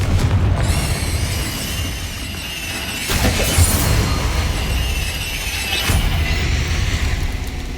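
Explosive booms from the Confringo blasting spell in the video game Hogwarts Legacy, with several loud bursts over rumbling combat noise and a steady background score.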